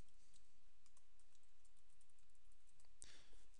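Typing on a computer keyboard while filling in an online form: a faint, quiet run of light key clicks spread evenly across the moment, ending with one sharper, louder click.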